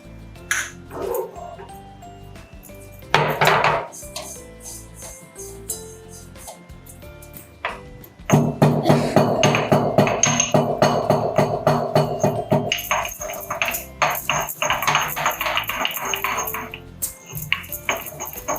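Cumin is pounded in a metal mortar and pestle for a Maharashtrian bitter gourd curry: a few scattered knocks, then a long run of rapid, ringing, rhythmic strikes that grow denser and brighter toward the end.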